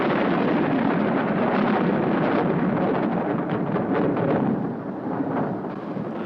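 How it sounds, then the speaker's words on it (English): Thunder from an approaching storm rolls on without a break, a loud, heavy rumble that swells and crackles for several seconds before easing slightly near the end. "Well, the storm's definitely on its way now, Jim."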